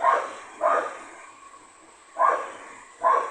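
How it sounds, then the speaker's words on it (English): A dog barks four times in two pairs, short and somewhat distant, with quiet pauses in between. "Sorry about the dog barking in the background, everyone."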